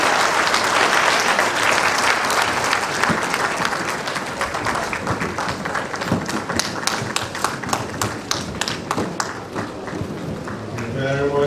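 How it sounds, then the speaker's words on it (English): A lecture-hall audience at a faculty of science open lecture gives sustained, dense applause that holds steady throughout, with scattered sharper claps standing out near the end. "Please let's keep clapping until he takes his seat."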